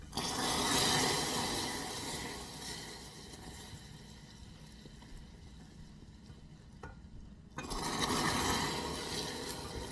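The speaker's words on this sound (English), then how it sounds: "Pour it very slowly in." Boiling water pours and sizzles steadily into a hot pan for caramel, a bright hissing wash that eases off mid-way, then swells loudly again near the end.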